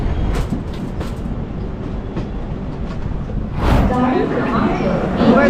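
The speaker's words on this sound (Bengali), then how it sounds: "আমাদের ট্রেন এখন নাগপুর জাংশনে ঢুকছে" A passenger train on the Howrah Mail route rolls into Nagpur Junction with continuous loud rumble and rattling wheel noise, swelling and turning brighter with squealing tones near the end; no clear speech.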